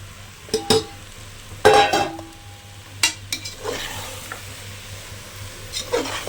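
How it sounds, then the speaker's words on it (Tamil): Mushrooms being stirred and fried in a pan for mushroom biryani, with scattered scraping and clinking of a spoon against the pan at close range over a faint, steady sizzle. "நல்லா பரட்டி விட்டுருங்க"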